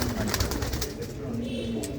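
Racing pigeons kept in a loft coo softly and repeatedly, a low throaty murmur close by, with faint voices and background noise mixed in.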